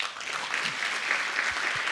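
Sustained, even applause from a tech talk audience after a speaker's presentation, a dense crowd of clapping hands for two seconds with a few low thumps near the end.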